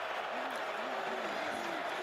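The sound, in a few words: crowd noise from Oklahoma Sooners fans at football game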